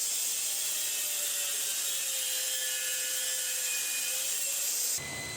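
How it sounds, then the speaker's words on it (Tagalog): An angle grinder cuts into the top of a Honda Civic FD front shock mount, a loud steady high-pitched metal whine with slight pitch shifts, then stopping abruptly near the end. "So ito guys, naisip ko. So sirain natin yung ibabaw. Ayan, so gagrinderin ko yung ibabaw na hanggang maubos."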